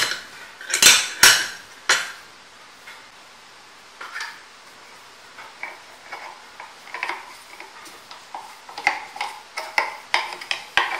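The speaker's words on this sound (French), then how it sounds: "je vais la remélanger pour lui incorporer encore ces nouveaux éléments" A utensil stirs mayonnaise in a bowl, sharp clinks and knocks against the side, a few loud strikes early then quicker, lighter scraping taps in an uneven rhythm, close and without speech.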